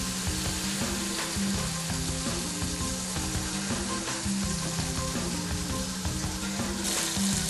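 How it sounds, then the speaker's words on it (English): Trout coated in olive oil sizzling in a hot pan, a steady dense crackle of frying that runs throughout, close and even, with no talk. "now I just place the trout in. Make sure the pan's nice and hot."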